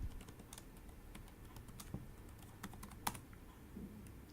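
Soft keystrokes tapping on a computer keyboard while entering a password at a terminal, quiet and irregular with a few sharper key presses, no voices.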